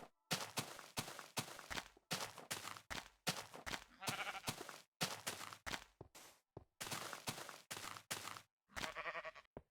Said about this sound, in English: What are you doing down there, sheep?